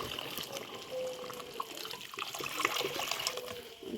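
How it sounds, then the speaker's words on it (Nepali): Water trickles and splashes into a pan of home-cooked fish curry, a short uneven pour heard close with a few small clinks. "यसमा हल्का पानी एड गर्नुपर्छ हो।"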